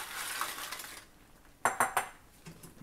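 Tortillas tossed into red salsa for chilaquiles rojos in a pan, heard as a soft rustle followed by three sharp clinks of a utensil against the pan.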